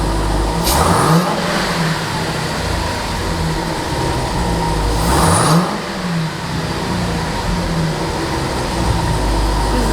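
A Jeep Trackhawk engine with an aftermarket performance intake revs hard twice with a loud intake roar, the revs climbing and dropping between steady idling.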